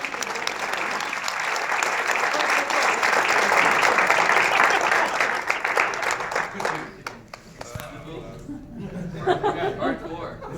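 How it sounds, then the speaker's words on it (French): An audience at a Montreal leaders' meeting bursts into strong applause that swells, then thins out into scattered claps, chuckles and chatter. "je voudrais qu'on applaudisse très fort."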